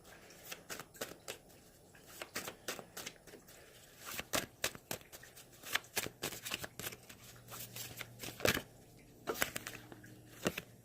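Tarot cards being shuffled and drawn at a reading: dense, rapid riffling and flicking of cards close by, with irregular crisp slaps and a short pause partway through, no talk.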